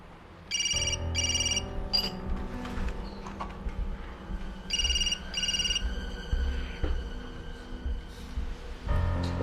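A telephone rings in repeated electronic bursts over a steady low hum in a tense indoor scene. The pattern of rings recurs across the clip.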